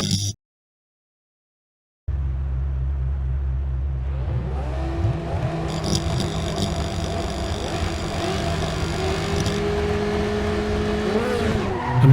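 A Ferrari 288 GTO in the Assetto Corsa EVO racing game, its engine droning steadily and rising in pitch through the gears, with tire squeal and skidding as it corners, loud and continuous after a brief silence at the start.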